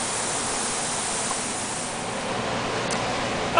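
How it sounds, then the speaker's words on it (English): Water pouring steadily from a hose into a pasteurizer tank of mushroom substrate, a constant rushing, hissing flow heard close and unbroken with no voices. "I just lay the hose in there and let it run till it fills up"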